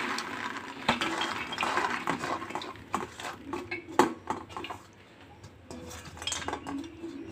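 Soaked dried peas for ghugni being poured and rinsed in a metal pot, scattered clinks and rattles of hard peas against metal with splashy water handling, fairly close and irregular, no speech.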